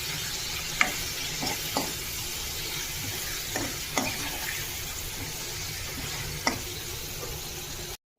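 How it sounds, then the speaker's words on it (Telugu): Chicken pieces frying in oil for a chicken curry, a steady soft sizzle with occasional spoon clinks and stirring knocks against the pan, moderately quiet and without talk. "కొంచెం ఆయిల్లో చికెన్ ఫ్రై కావాలి"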